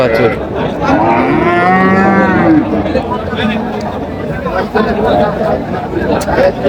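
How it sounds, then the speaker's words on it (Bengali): A young dairy cow lets out a loud, drawn-out moo close by at Ambari cattle market in Dinajpur, and its tone rises and falls. Voices and general outdoor noise continue around it. "গাভী"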